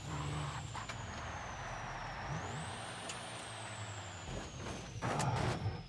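A van drifts in the BeamNG driving game, with a steady engine drone and a high tire squeal that climbs and then slides slowly downward, loud and continuous for the whole stretch with no talk.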